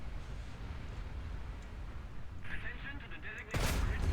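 An AMX-50 Surbaissé autoloading tank cannon in War Thunder fires one heavy booming shot that rings out over steady engine rumble, with a softer earlier report and a voice talking through it.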